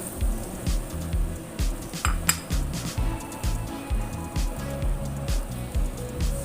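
Vegetables dropped into a pot of clear chicken soup, with clinks of a utensil against the pot and light clatter over a low bubbling, steady background.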